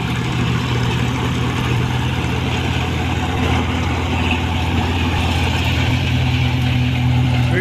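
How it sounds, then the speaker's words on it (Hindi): Massey Ferguson 9500 tractor powering a straw thresher, a loud continuous engine drone blended with the machine's dense whooshing fan and rattle, steady and close throughout. "बाकी ट्रैक्टर की चलती हुई परफॉर्मेंस आपके सामने है।"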